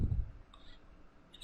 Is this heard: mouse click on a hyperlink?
yes